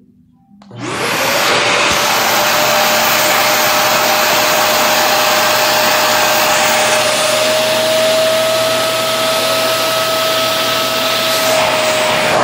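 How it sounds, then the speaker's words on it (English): A Vacmaster 3-in-1 shop vac extractor cleaning carpet starts up and settles into a loud, steady motor whine with a rushing airflow roar. It runs continuously and close, with no talk. "I used the Vacmaster extractor."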